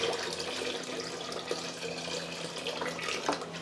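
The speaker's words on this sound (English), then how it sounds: "Then we will add our water." Water poured into a rock tumbler barrel holding a cinder block and white powder, a steady splashing pour that runs continuously for several seconds, close and moderately loud with no talk.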